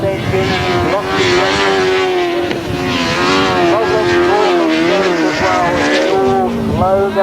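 Grasstrack racing motorcycles with sidecars at a 1997 world longtrack championship qualifier roar past with loud, sustained engine drone and rising, falling pitch, with a commentator's voice running over the noise throughout.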